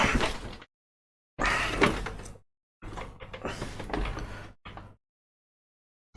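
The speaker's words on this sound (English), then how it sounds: "Squeaky doors." A squeaky door opens and closes in several long creaking strokes separated by short silences, close and fairly loud.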